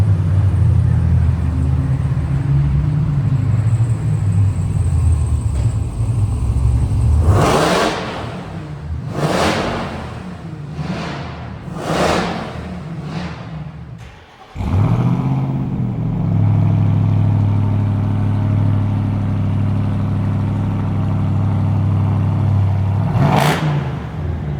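2027 RAM TRX pickup with a 777 HP Hellcat Hemi V8, idling with a deep rumble, then several sharp revs in quick succession. It settles into a steady idle, with one more short rev near the end.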